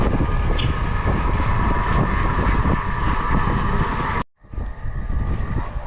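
A train at Chandpur railway station in Bangladesh, heard as a loud, continuous rumble with rattling wagons close by. The sound breaks off abruptly and then resumes more quietly.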